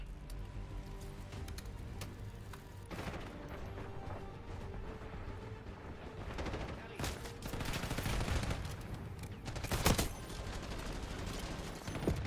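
Rapid bursts of gunfire from the shooter video game Snowbreak crackle repeatedly over a dense in-game soundscape, with a sharper, louder volley near the end and a voice faintly present.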